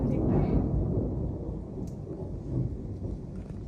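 Steady, dense rain hiss fills the clip with a low rumbling undertone like distant thunder, fairly loud and continuous throughout.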